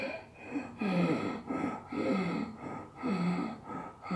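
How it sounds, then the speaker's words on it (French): A person takes quick, short breaths in a steady rhythm, about one every half second. The breathing is close and moderately loud, with no talking over it. "Faites une respiration courte."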